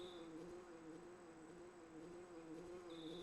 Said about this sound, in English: That sounds like a bee flying around.